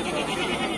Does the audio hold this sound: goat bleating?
yes